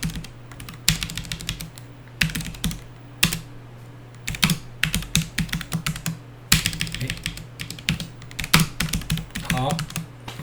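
Computer keyboard typing while text is entered into a drawing tool, with bursts of quick close clicks separated by short pauses, all over a faint steady background hum.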